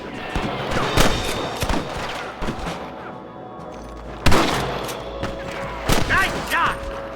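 Gunfire rings out in a Red Dead Redemption shootout: scattered loud shots and short volleys crack over a busy background, with voices in the mix.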